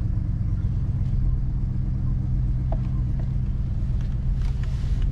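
A BMW X5 E53 with the 4.6 V8 runs just after starting, a steady low engine rumble holding throughout with faint clicks over it.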